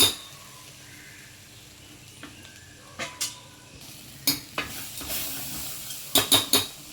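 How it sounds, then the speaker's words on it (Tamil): Spices sizzle softly in oil while a utensil stirs and scrapes the pan in several sharp clinks and taps, cooking green gram curry. "அடுப்பை சிம்மில் வச்சுட்டு கிளறி விட்டுருங்க."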